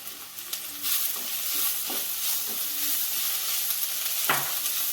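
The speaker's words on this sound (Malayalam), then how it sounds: "കുറച്ച് കറിവേപ്പില ഇട്ട് കൊടുക്കാം." Curry leaves dropped into hot oil for a beef curry with wilting onions, giving a steady close sizzle with a few stirring scrapes and a knock near the end.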